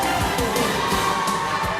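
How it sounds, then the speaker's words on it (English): A crowd at a medical quiz bee during an annual meeting cheers and shouts loudly and continuously, with high excited voices and rhythmic bursts filling the hall. "Lakas ng cheer."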